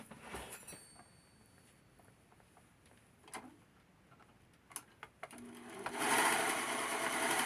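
A serger sewing machine finishes a fabric edge, starting after scattered quiet handling clicks and then running in a steady, fairly loud mechanical whir near the end.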